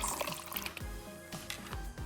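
Water is poured into a small container of slime mix, a faint, close trickle with soft splashy gurgles and a few drips over a couple of seconds.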